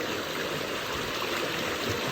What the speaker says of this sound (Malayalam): ഈ അരുവികള് ഇങ്ങനെ ഒഴുകി ഒഴുകി ഒഴുകി ഒഴുകി ഒഴുകി എവിടെക്കോ പോകുന്നുണ്ട്.